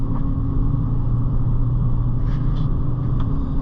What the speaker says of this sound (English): There's second gear.